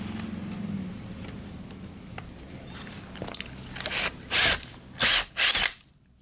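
A handheld drill whirs in short bursts, with grinding and several loud high-pitched squeals as the bit bites into a metal rivet near the microphone, in a Subaru Legacy STI.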